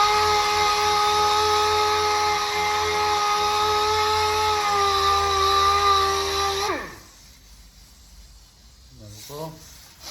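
Power sander working on a car body panel repair after 80 grit, a loud steady whine and hiss that winds down and stops partway through, followed by quieter handling noise.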